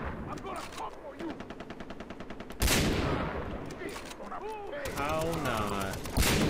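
Gunfire in the shooter game Far Cry 3, with rapid repeated shots in bursts, a loud blast near the middle and more firing afterward, all under excited speech.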